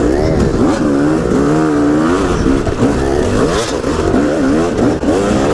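A motorcycle engine revs hard and close as the throttle is whipped open and eased off repeatedly, its wavering pitch rising and falling continuously and loud throughout.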